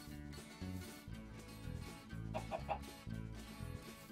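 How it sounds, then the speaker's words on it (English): A chicken in Minecraft gives a few soft clucks over looping background music, faint and brief beneath the game's melody. "Oh, chicken!"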